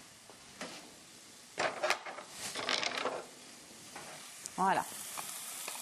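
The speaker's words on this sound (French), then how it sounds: "Vous déposez le quinoa que vous allez faire revenir un tout petit peu." Quinoa toasting in oil in a pan, with a soft sizzle and stirring scrapes rising in bursts over a few seconds; a voice speaks a single brief word.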